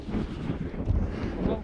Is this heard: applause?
no